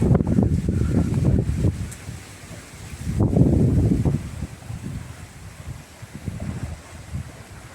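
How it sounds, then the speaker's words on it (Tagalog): Strong typhoon gusts buffet the microphone in low, rumbling bursts that swell and fade, with rustling noise and no voices. "lakas ng hangin"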